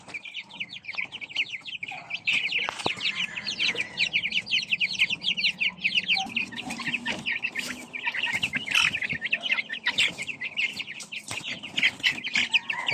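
Chicks on a backyard poultry farm peeping continuously and rapidly while being moved to a raised pen, a dense close chorus of high chirps with soft clucking and rustling beneath, no talking.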